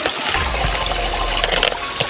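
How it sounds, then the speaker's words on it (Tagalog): Steady rush of river water flowing past outdoors, a continuous broadband wash with no voices, loud and close throughout. "maganda yung agos ng tubig ngayon dito"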